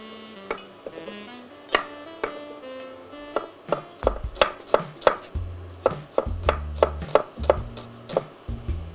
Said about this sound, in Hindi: तब तक मेरा जो अनियन है उसको थोड़ा चॉप कर लेते हैं